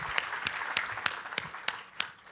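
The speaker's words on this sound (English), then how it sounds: "Round of applause for Warwick." Sparse claps from an audience after a talk, eight or so sharp, evenly spaced hand claps over a quiet room hiss, moderately near and without voices.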